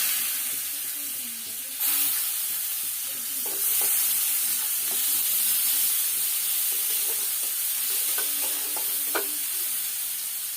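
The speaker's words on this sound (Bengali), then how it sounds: "এবারে এর মধ্যে দিয়ে দেবো পেঁয়াজ কুচি।" Chopped onion goes into hot oil with cardamom, cloves and cinnamon for a prawn malai curry, bursting into a loud steady sizzle and hiss, with stirring scrapes and taps near the end.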